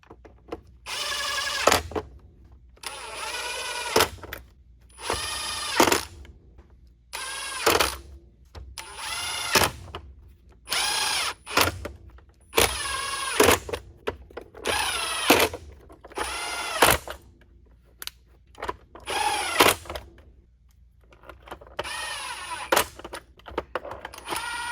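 Cordless power drill driving screws back into a Shark Navigator Lift-Away vacuum, repeated short whirring bursts of about a second each separated by pauses, close and clear with no talking.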